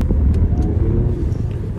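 Steady low engine rumble from a 2014 SEAT Leon Cupra with a 2-litre petrol engine and 6-speed manual gearbox, heard from inside the cabin as a continuous, even drone with no talking.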